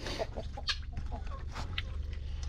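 Farmyard chickens cluck in repeated short, scattered calls, close and fairly loud over a steady low rumble of background noise.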